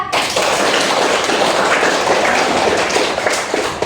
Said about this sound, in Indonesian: Beri aplaus sama Mbak Adin ya.